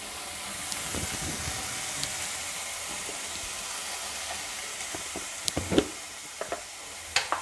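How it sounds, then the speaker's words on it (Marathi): Sprouted moth beans being sautéed in a pan give a steady, moderate sizzle throughout, with several sharper scraping or stirring clicks toward the end and no voices. "थोडीशी परतून घ्यायची आपल्याला छान लागते टेस्ट पण त्याची"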